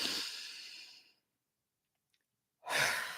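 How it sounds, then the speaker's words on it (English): A long, deep breath drawn in slowly and then released, a soft airy rush that fades into silence before the next airy inhale or exhale begins, close and alone with no talking. "We'll just do a big deep breath now into your belly."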